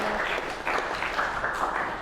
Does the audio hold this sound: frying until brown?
no